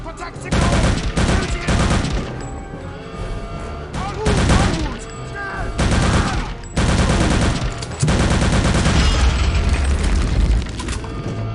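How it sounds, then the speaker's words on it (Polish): Explosions and bursts of gunfire from the Return to Castle Wolfenstein game during a castle escape, with loud rapid volleys and heavy booms repeating across the clip, filling the soundscape without any talking. "Pięknie tam coś wybuchło."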